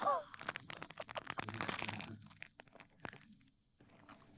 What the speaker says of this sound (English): it's the crunch heard all around the world